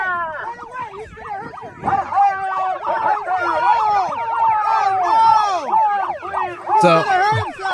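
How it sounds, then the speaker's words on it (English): Sirens wail and warble at a street protest, overlapping sweeping tones rising and falling close by, mixed with dog barking, shouting voices and a loud blast near the end. "they got sirens going off"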